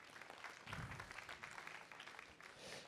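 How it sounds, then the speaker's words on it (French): Conference audience applauding an invited speaker, a soft, distant patter of clapping that sounds faint and roomy, with a low rumble underneath. "On peut l'applaudir."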